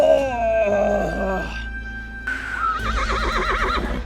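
A horse neighs loudly and close by during riding practice. A long wavering call fades out, then a second trembling whinny rises with a fluttering vibrato over a steady low background hum.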